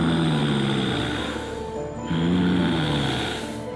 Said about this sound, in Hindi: रात को मोहिनी अपने कमरे में सो रही थी तो उसको वही सांस की आवाज सुनाई देने लगी।